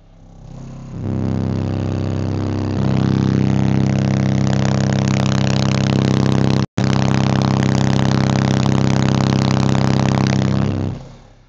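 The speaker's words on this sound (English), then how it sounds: "we are using track 33 for 33 hertz" A 33 Hz bass test tone from a track pounds through a 6th order bandpass subwoofer enclosure run on two amps, a loud sustained drone that steps up in level and cuts out briefly near the middle.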